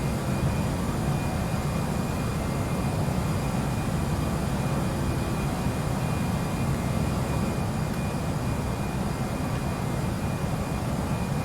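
Steady airliner engine drone from an Airbus A319 climbing in Flight Simulator X, a constant broadband roar with a faint tonal whine holding unchanged throughout, with no talking.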